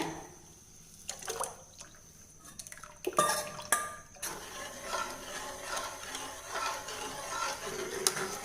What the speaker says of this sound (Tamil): நம்ம இன்றைக்கி இப்போ இந்த மாவு இதில் ஊற்றிடலாங்க